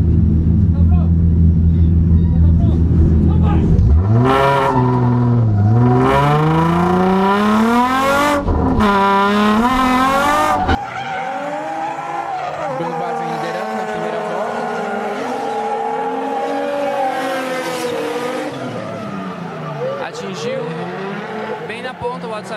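A BMW E36 and other race cars at a circuit, engines revving loudly with rising and falling pitch sweeps as they accelerate and shift gears, close and continuous, heavy before a sudden cut to a steadier engine drone.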